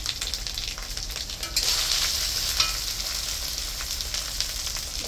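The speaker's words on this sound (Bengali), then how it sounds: "আদা বাটা দিলাম জিরা বাটা হলুদের গুঁড়াটা দিয়ে দিলাম" Ginger paste, cumin paste and turmeric powder fry in oil in a pan, a bright hissing sizzle that swells after the first second and holds steady with light stirring, close up and without speech.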